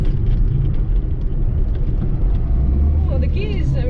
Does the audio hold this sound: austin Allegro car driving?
yes